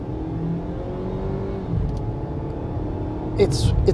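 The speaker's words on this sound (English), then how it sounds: "the 4-cylinder, the 2-liter, it doesn't sound very good" A 2-liter 4-cylinder engine in a 2022 Ford Maverick XL drones and rises in pitch as it revs, with a faint whine in the tone; someone speaks briefly near the end.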